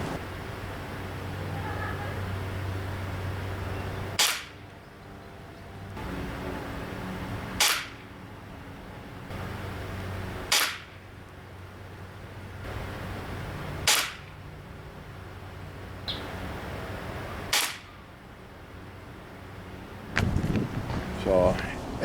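A Crosman TR77 NPS .177 short-barrel air rifle fires five sharp, crisp cracks at steady intervals of about three seconds over a quiet outdoor background, followed by brief rustling handling noise.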